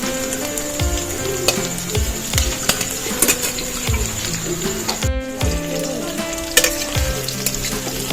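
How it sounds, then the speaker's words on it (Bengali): Bay leaves and onions frying in oil in a kadai, the base for a chicken curry: a steady close sizzle with occasional scrapes and clinks from stirring, and no voices. "তো দেখো চিকেনের জন্য আমি তো কড়াইতে তেজপাতা পেঁয়াজ দিয়ে দিয়েছি।"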